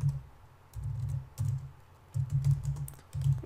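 Python code is typed on a computer keyboard in quick bursts of close, crisp key clicks separated by short pauses, with no talking.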